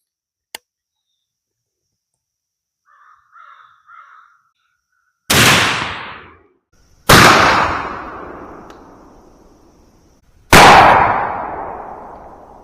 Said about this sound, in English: Here comes shot 2 with the 9 pellet double aught Federal Flight Controls